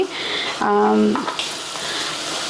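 Curry leaves frying in hot oil, a brief loud sizzling burst that settles into a steady crackling hiss, with a voice talking briefly over the cooking.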